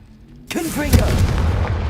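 In Hogwarts Legacy, the Confringo explosive curse bursts suddenly into a booming blast with a rolling rumble that lingers, joined by a brief shouted voice.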